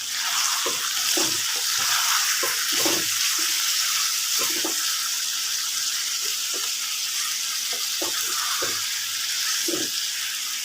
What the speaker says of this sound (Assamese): কেৰাহীটো লটৰ পটৰ কৰি আছে।